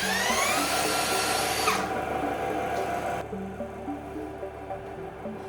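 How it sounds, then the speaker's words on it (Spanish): A cordless drill spinning an alternator whines as its motor turns steadily, with shifting harmonic tones. Partway through it drops to a lower, quieter mechanical hum. "con este taladro de batería iniciemos el movimiento del alternador"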